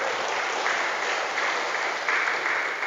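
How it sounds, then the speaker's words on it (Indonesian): Steady applause from a large audience at a national-outlook lecture for police personnel in Lampung Tengah, a dense even wash of clapping with no voices on top, holding at a constant loudness throughout. "Tepuk tangan dulu Pak,"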